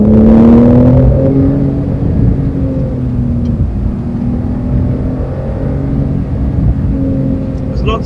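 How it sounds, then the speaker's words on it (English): A 2020 Porsche 911's flat-six engine hums and revs steadily from inside the cabin, its deep growl rising and falling while someone talks over it. "inside it sounds fantastic. Definitely a flat six. Definitely an engine raring to go, revs to the skies."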